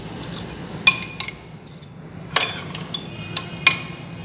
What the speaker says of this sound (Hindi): इन सब चीज़ों को अच्छी तरह मिक्स कर लें।